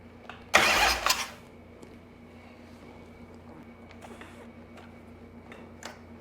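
Chopper motorcycle engine started with the choke on: a loud cranking burst of about half a second that catches briefly and then dies away, leaving a quiet hum and a few faint clicks.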